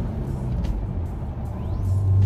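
A manual-transmission car engine hums low and steady as it accelerates, the pitch climbing through a gear change with faint whine above the rumble, close and continuous with no voices.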